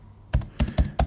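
A few quick keystrokes on a computer keyboard come in an uneven burst of four close, crisp clicks, heard alone in a quiet room.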